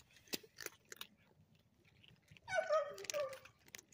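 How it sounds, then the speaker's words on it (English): A dog inside a home makes close, quiet clicking and chewing sounds, then gives a short whining whimper partway through before fading back to soft noises. "It's the dog."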